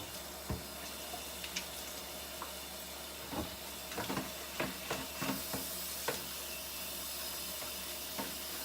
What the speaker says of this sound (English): I'm going to add my chickpeas because I want them to saute a little bit